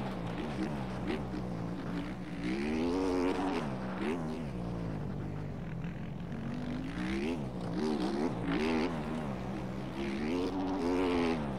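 Several motocross bike engines racing in MX Bikes, buzzing and revving in overlapping waves with pitch swells as throttles open and close, steady and fairly close.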